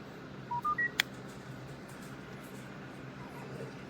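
A Turtle Beach Stealth 700 wireless gaming headset powers on and connects, sounding three short rising beeps and a sharp click. They are faint over a noisy room background.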